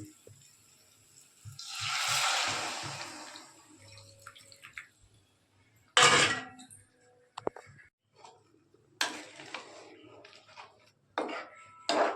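Hot water pours into a pot of braised chicken curry in one gushing splash. Metal clinks, knocks and scrapes of the pot and utensils follow, close and fairly quiet.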